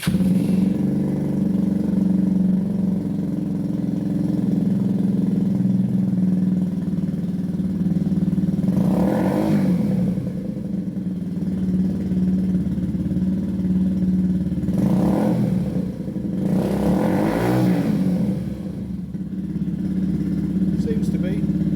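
A parked motorcycle, switched on while its battery charges, idles with a steady mid-pitched hum, broken by three short throttle revs later on, the last two close together.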